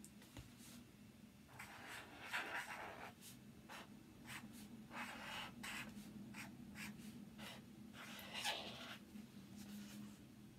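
A pen writing out a simple addition sum for a reception maths lesson, soft scratchy strokes coming in short bursts with pauses between them, close and quiet, no talking.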